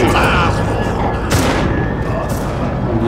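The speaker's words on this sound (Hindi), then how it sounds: "दो, तीन, तीन गोलियां मारी, गोलियां खत्म" Gunfire in the video game Cryostasis: a couple of sharp, booming shots ring out amid a dense, loud game soundscape, with a voice faintly underneath.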